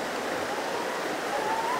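Bahmani waterfall on Ajodhya Hill in Purulia, West Bengal, running with fairly low water in August, gives a steady, even rush of falling water throughout.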